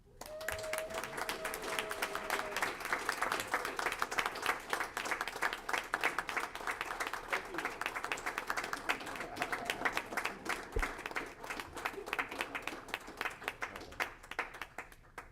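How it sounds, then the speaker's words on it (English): At a December board meeting, the room gives a round of applause to an honoree: dense, continuous clapping holds steady for about fifteen seconds, fairly close and even, with a brief tonal sound at the start. "Please join me in giving a round of applause to Mr. John Vasquez."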